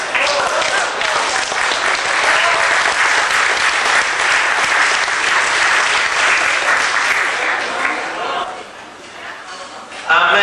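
Loud, sustained applause from the crowd at the 1993 Corps de Dieu 125th-anniversary celebration, dense clapping for about eight seconds before thinning briefly and surging again at the end.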